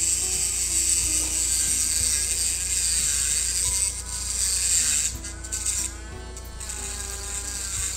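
A dental handpiece trims an implant abutment to size, a faint high-pitched whine running steadily with slight pitch shifts and brief dips, heard alone against a low background hum.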